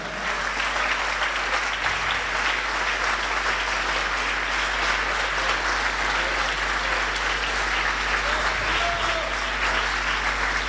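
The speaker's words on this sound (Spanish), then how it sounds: "Dele un aplauso si se lo quiere dar" Applause from a church congregation at an evangelistic fellowship service fills the space with continuous, even, dense clapping, steady in level from start to finish and with no clear talking over it.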